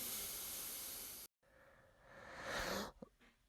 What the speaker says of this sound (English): This is actually me breathing into my phone mic.